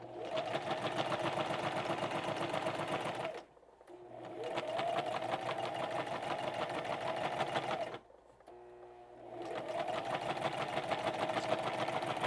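A sewing machine stitches in the ditch between two pieces of a quilted wall hanging, a rapid, even mechanical whir in close bursts broken by two short pauses.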